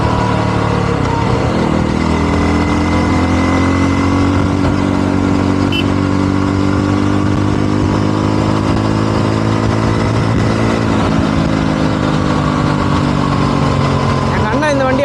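A 2025 Yezdi Roadster motorcycle engine drones steadily while riding at speed, a loud, continuous mid-pitched hum with faint shifts in pitch throughout.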